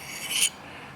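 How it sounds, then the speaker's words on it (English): A small rasp files the burr, or wire edge, off a freshly sharpened knife in a workshop: a single short, bright scraping stroke up close, then quiet. "So I just got this little rasp here,"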